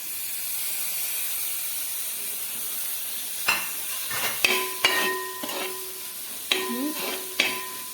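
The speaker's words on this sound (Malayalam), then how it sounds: "തക്കാളിയും കൂടി അങ്ങോട്ട് നന്നായിട്ട് അങ്ങോട്ട് വഴന്ന് വരട്ടെ കേട്ടോ" Tomatoes sauté in oil with masala for a crab roast, giving a steady soft sizzle and hiss, joined later by several sharp spoon clanks and scrapes against the pan, close and without speech.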